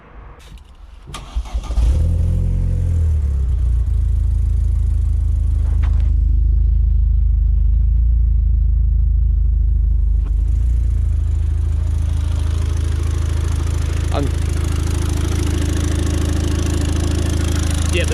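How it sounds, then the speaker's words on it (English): An Opel Corsa OPC with a freshly installed replacement engine cranks briefly, catches and settles into a loud, steady, rumbling idle that runs on close up with no talk. "Now I'm going to start up again and let it run for longer."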